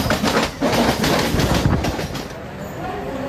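A Mumbai local train rushes past close by, a loud steady roar of wheels and rattling carriages that fades slightly toward the end.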